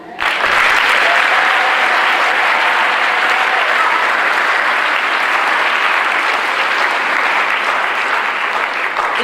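Sustained, dense applause from a large audience saluting a graduating class of 1999 at a graduation ceremony, steady and loud throughout with a faint crowd murmur beneath.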